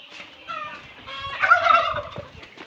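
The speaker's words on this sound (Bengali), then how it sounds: "আমার টার্কিগুলা বাইরে আছে, টার্কিগুলার একটু দেখা দাও, এদিকে আসো।" Turkeys outdoors let out a loud, close, bubbling gobble that rises to a peak midway and trails off, with faint background noise and no speech.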